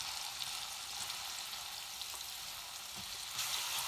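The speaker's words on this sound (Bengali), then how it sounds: "রসুনের জারা দিলাইরা, সামান্য পেঁয়াজও দিলাইরা," Garlic and onion fry in oil, a faint, even hiss of sizzling that holds steady for a few seconds with no voices.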